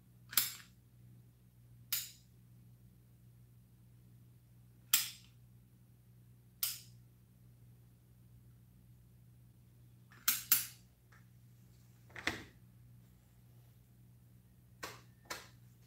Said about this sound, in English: I'm going to apply with caulking gun and then mix it in.